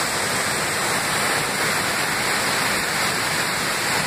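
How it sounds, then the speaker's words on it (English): A roughly 65-foot waterfall on Hills Creek in the Cranberry Wilderness roars in a loud, steady, unbroken rush of falling water, with no voices over it. "There's three falls on Hills Creek, the upper falls, about 25 feet, the middle falls, 40 some feet, and then these falls, about 65 feet high."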